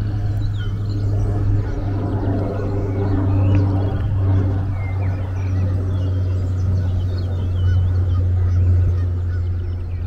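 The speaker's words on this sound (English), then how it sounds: "Some geese." Geese honking in an overgrown field by disused football and tennis courts, a steady chorus of mid-distance calls over a constant low hum, no talk.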